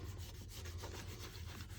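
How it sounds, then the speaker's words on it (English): Quick sanding on the back of a playing card, a fast rhythmic scratchy rubbing of short strokes, close but quiet, with a low background hum. "I'm just sanding the back of this really quickly"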